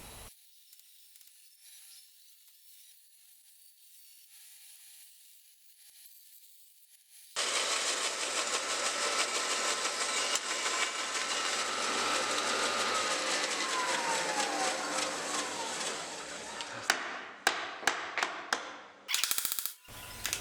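After a quiet start, a band saw starts up and cuts steadily through wood, a dovetail joint for a dining buffet, with a continuous harsh buzzing rasp, ending in a few clunks and knocks.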